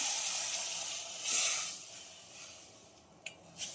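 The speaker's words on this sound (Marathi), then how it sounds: "मी आता थोडस पाणी टाकते" Water poured into a pan of hot Khandeshi-style peanut curry sends up a soft steamy hiss that fades gradually, followed by a couple of brief sharp sizzles, quiet and close with no talk.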